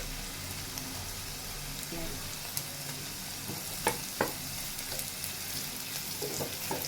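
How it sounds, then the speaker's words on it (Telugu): Carrot pieces fry in a pan with chillies and ginger, a soft sizzle under occasional stirring clinks and scrapes, fairly quiet and close. "ఇవి కొంచెం ఫ్రై అయినప్పుడు దీంట్లోనే మనం కట్ చేసి పెట్టుకున్న క్యారెట్ ముక్కలు వేసుకుంటున్నామండి"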